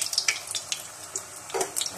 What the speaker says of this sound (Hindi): और थोड़ी देर इस तरह फ्राई करेंगे